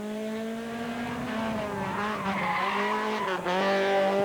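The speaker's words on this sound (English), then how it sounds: "lots of revs on the VTEC engine, and off he flies" A rally car's Honda VTEC engine revs hard and climbs in pitch, tyres squealing as it pulls away fast and loud, rising and dropping through gear changes, at the 1997 Jersey Rally.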